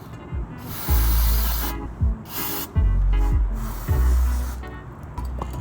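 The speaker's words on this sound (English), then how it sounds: "let's go ahead, spray it up, clean it out with some tissue" Several short bursts of aerosol cleaner hiss onto a Nissan 350Z throttle body, close and loud, separated by brief pauses.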